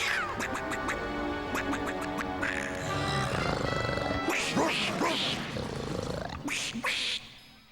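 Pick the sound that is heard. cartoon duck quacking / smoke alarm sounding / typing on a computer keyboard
cartoon duck quacking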